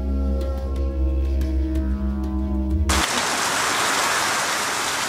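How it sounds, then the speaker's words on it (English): A low steady hum gives way abruptly to a loud, dense hiss of heavy desert rain pouring down steadily, with no voices. "The rain comes, and it floods the desert."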